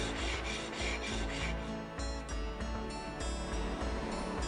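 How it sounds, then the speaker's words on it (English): Flesh and hair are scraped from an animal hide with repeated rasping strokes, a harsh rhythmic rubbing about once a second, loud and close with no talk. "The flesh and hair was scraped off."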